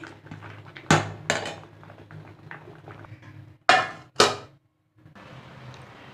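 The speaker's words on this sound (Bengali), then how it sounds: "এবার ভাতও হয়ে গেছে আমি নামিয়ে নিচ্ছি" A pot of cooked rice lifted off the stove makes a series of metallic clanks and bumps, two of them loud and close, followed by brief quiet.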